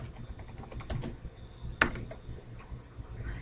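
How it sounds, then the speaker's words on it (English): Text typed on a computer keyboard: a quick burst of close key clicks, a pause, then one sharper tap and a few light strokes, alone without speech. "Click on your notebook file and add your text."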